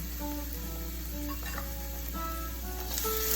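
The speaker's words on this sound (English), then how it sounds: "you want to cook that and like let that chili kind of bloom out a little bit" Chili paste sizzles in a pan while fried rice is being made, a steady close hiss with a few soft stirring scrapes and no voices.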